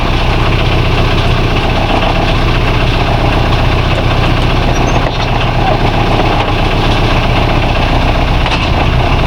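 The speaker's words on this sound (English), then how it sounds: "As you can hear, the diesel is running." A diesel engine aboard an Allied 36 ketch runs at a steady, loud, unbroken idle, its deep low throb and mechanical chatter continuous throughout.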